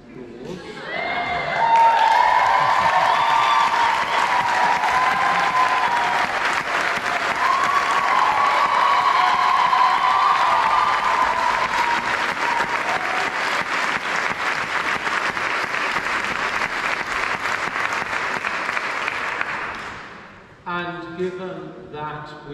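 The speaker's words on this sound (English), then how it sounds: "ask our two musical directors to face the audience and take some applause" Sustained audience applause at a college choir concert, loud and continuous from a full hall with some cheering, lasting about twenty seconds before fading away as light sounds follow.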